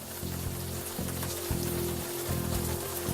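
Steady rain falls in the adventure game Unavowed, a continuous hiss that runs the whole time beneath a low, sustained background music bed, with no voices.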